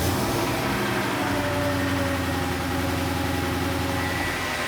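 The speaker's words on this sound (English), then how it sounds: "we're gonna put the key in the ignition" Mercedes W211 E55 AMG engine idling steadily in a workshop after a MAP sensor replacement, a dense, even low rumble held throughout with no talk.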